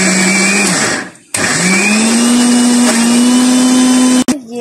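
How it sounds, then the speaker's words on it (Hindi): A kitchen mixer grinder coarsely grinds soaked chana dal with salt for masala vada, its motor whirring loud and close in two steady runs separated by brief pauses. "इसको कोर्सली ग्राइंड करें।"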